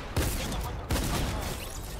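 Two sharp gunshots from the Fortnite shooter game, roughly three quarters of a second apart, each punchy and close with a short decaying tail, with no voices over them.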